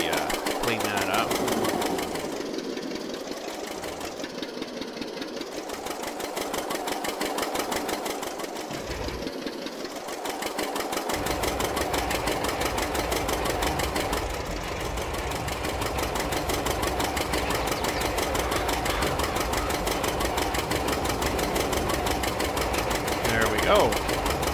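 A tractor engine in the Farming Simulator game drags a roller across a field, a steady mid-pitched diesel drone with a rhythmic knocking throb running throughout, loud and continuous with small swells in level.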